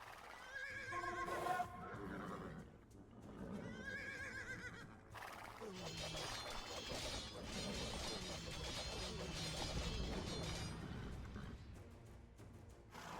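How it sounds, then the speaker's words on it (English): Scythian horses whinny, snort and stomp in a pen in Age of Empires II: Definitive Edition, with repeated neighing calls and hoof clatter amid battle noise while a voice speaks over them. "The Scythians have dozens of those mad-eyed horses they ride, all stomping and snorting in a big pen."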